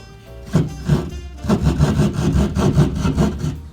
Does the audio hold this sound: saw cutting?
yes